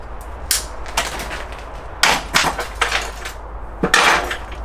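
Pruning shears cut through jujube tree branches, a few sharp, close snips and crunching snaps spaced unevenly over a faint outdoor background.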